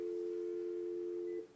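Steady dial tone from a Toshiba office phone on speakerphone, one unbroken even tone lasting over a second before cutting off, clear and alone in a quiet room.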